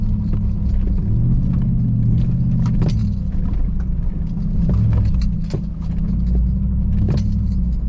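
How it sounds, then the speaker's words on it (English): A 2021 Chevy Trail Boss truck in 4-wheel drive grinds up a muddy hill, its engine holding a steady low drone while loose metal rattles and clinks sharply above it. "Engaging 4-wheel drive to make it up this hill here."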